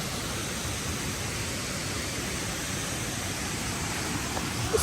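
Uma Anyar waterfall in Bali, Indonesia gives a constant broadband roar of falling water that holds steady throughout, dense and fairly loud, with no voices heard.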